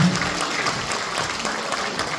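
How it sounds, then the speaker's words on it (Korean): Steady applause from a crowd at a wedding ceremony fills the room, continuous clapping at moderate volume with no voices over it. "박수로 기원해 주시면 감사하겠습니다"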